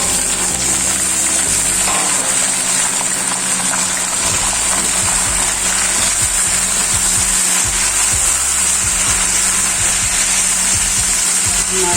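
Mutton sizzling and frying with light-browned onions in a karahi, a steady dense hiss of hot oil running through the whole stretch, fairly loud and close, with no talking.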